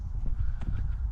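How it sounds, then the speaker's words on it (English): A horse at an equestrian farm, its hooves clip-clopping in a steady rhythm at close range with faint snorting, over a short stretch with no talk. "The only animals I ever see are horses."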